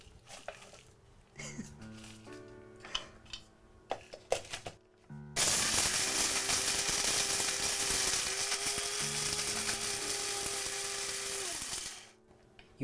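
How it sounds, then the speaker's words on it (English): An electric grinder whirs loudly and steadily for about seven seconds as dried chilies are ground into fine Jaffna chili powder. Clinks and handling noises come first, and the grinding stops abruptly near the end. "You want to grind it into as fine a powder as possible."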